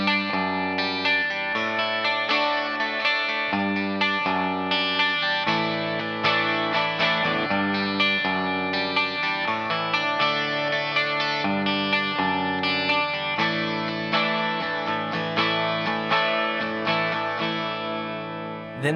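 Electric guitar playing the intro of a song, with bright jangly chords and melodic fills in a steady rhythm, lightly driven with chorus, continuous and close with no speech.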